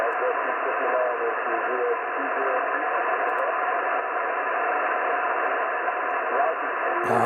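Steady hiss of an amateur radio receiver tuned to the 40 meter band, a dense band-limited static wash that stays loud and constant, cutting off abruptly at the very end.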